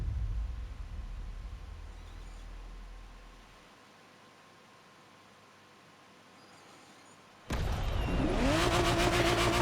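A Ferrari Testarossa in The Crew Motorfest video game sits under a steady hiss, then its engine suddenly roars and revs up loudly in the final couple of seconds.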